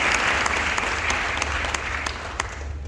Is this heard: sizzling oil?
no